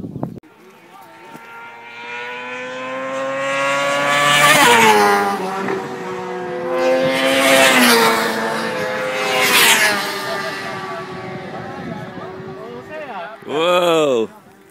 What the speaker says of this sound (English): that's a flyby